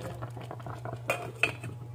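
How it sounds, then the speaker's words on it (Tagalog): Water boiling in a rice cooker, a soft irregular bubbling with a few light clinks over a steady low electrical hum, close by and fairly quiet. "Ayan, kumukulo na."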